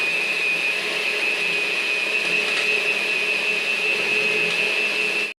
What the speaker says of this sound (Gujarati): આને પેક કરીને મિક્સરમાં કાઢી નાખી